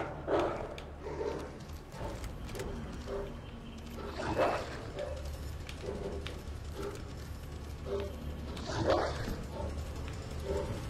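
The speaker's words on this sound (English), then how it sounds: "Where's this dog?" Zombie dog in Resident Evil 2 barking in short repeated bursts with whimpers, moderately near, against a steady low game ambience.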